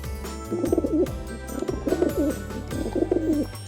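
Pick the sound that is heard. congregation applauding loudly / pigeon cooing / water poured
pigeon cooing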